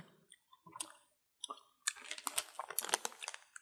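A Cremo Mr. Triple Choco Lava chocolate ice cream bar crunching as it is bitten and chewed, with close crisp cracks and crackles that start sparse and then come in a dense burst of crunching, quiet overall.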